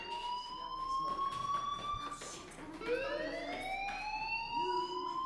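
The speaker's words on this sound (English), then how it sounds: "do you hear that fire alarm? That means you should be outside." A fire alarm rings in the Life is Strange video game, a sustained wailing electronic tone that sweeps and rises in pitch, steady and moderately loud with no talking over it.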